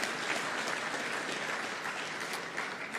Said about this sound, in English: Let's applaud her one more time.